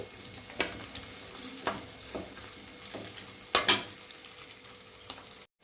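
Onions and green chillies fry in oil for a curry, a soft continuous sizzle broken by a few sharp scrapes and clicks of stirring, close and moderately quiet.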